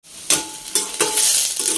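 Nigella seeds, bay leaf, green chilli and onion fry in hot oil in a pan, giving a steady close sizzle with a few sharp bursts and faint clinks of a utensil, no voices.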